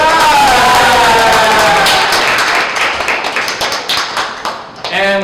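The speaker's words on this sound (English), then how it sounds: "Round of applause for Mr. Panta Shao, everybody!" Audience applause and cheering for the reigning champion of a durian dessert cooking contest, loud dense clapping and whoops that fade into scattered claps, with a shouted word and voices mixed in.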